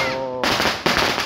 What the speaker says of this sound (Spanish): balas de cohete, creo que son esas